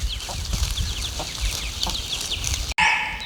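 Young chicks on a village farmstead keep up a dense, steady stream of clucks and peeps. The sound is loud and close, with no talk, and ends on a sharper, brighter burst.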